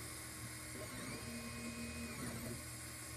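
An Anet A8 3D printer's extruder motor runs, giving a faint, thin, high motorized whine that rises for about a second and a half in the middle, then stops.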